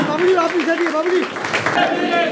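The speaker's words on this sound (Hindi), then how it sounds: "तालियां बजाते रहे, तालियां।" Audience applause at the opening of a Republican Samaj Party office in Delhi NCR, dense and continuous clapping with voices speaking over it throughout.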